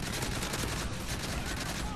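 Continuous heavy gunfire from the video game Modern Warfare 3, a dense unbroken barrage of rapid shots, loud and close throughout.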